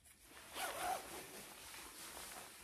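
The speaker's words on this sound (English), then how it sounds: "there's this like tiny little zipper" A tiny zipper on a cropped Chanel jacket gives one short, quiet zip lasting under a second, heard on its own with no talking.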